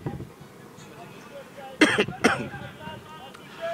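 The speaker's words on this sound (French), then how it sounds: "Maintenant je tousse." A man with the flu coughs twice in quick succession, sharp and close, amid faint background voices at a football match.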